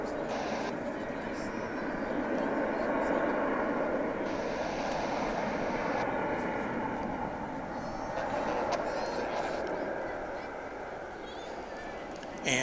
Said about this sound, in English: that Ontario flight was that went around just now was an Airbus A321